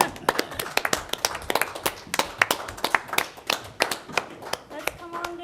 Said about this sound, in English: it's time for a round of applause, a standing ovation, and pictures